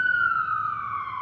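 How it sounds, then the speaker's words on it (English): A wailing ambulance siren drifts steadily downward in pitch as it passes, loud and continuous, with faint road rumble beneath and no talking. "every time I hear that ambulance, I just kind of wonder, is that it?"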